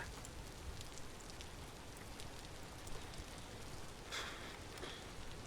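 Steady rain pattering in the video game Vintage Story, a dense even hiss of drops with a few brief brighter splashes, soft and continuous with no voices.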